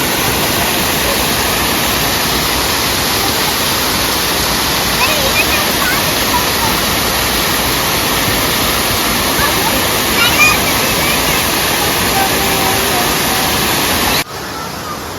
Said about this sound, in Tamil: அது வந்து இங்கே ஒரு ஃபால்ஸ் மாதிரி ஒரு அமைப்பு.